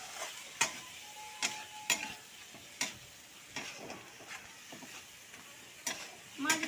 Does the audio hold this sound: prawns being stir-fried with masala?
yes